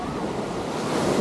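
Ocean surf at Waikiki Beach in Hawaii, waist-deep water near the Royal Hawaiian Hotel, gives a steady broadband wash of breaking waves with some wind rumble, continuous and fairly close.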